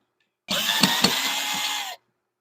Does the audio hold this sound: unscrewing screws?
yes